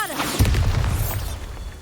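A Bombarda spell explosion in the Hogwarts Legacy video game hits as one sudden, heavy low blast that rumbles on for over a second.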